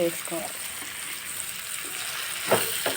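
Tomatoes simmering in a pan for fish curry, giving a soft steady sizzle with occasional stirring scrapes, while a voice speaks in short phrases over the cooking.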